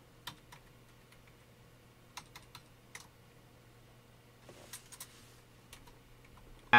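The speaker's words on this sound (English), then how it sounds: "And so you can just type that in." An IP address is typed on a computer keyboard, sparse close key taps in small clusters with pauses between them against a quiet room hum.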